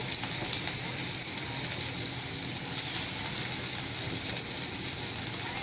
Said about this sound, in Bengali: সেই তেলের মধ্যে কিন্তু পেঁয়াজ কুচি দিয়ে দিলাম